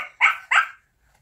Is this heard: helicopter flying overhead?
no